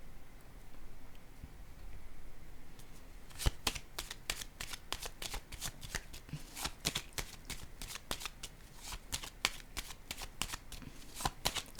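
Playing cards riffled and shuffled, then a series of sharp, crisp card snaps and slaps as cards are laid down one after another, close and clear over quiet room tone, with no talking.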